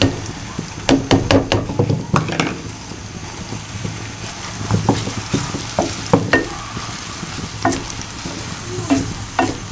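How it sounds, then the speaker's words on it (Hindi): Two medium chopped onions frying in hot oil in a pan, with a steady close sizzle and repeated sharp scraping and stirring clicks of a spoon against the pan throughout. "ऑयल गर्म हो गया। अब इसमें मैं ये प्याज कटी हुई डाल देता हूँ।"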